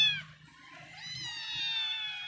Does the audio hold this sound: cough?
no